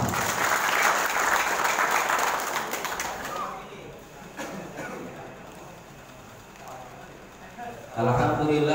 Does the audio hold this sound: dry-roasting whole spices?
no